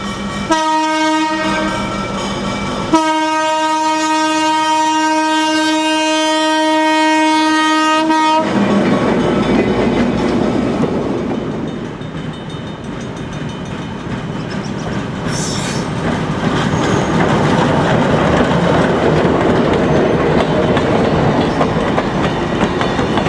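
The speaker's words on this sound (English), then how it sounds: "the sound of its roots-blown V12 567A, supplemented by the classic ALCO chugging" Long, loud locomotive horn blasts, then the heavy, steady rumble of an EMD switcher's roots-blown V12 567A diesel with classic ALCO chugging passing close by, with clattering wheels.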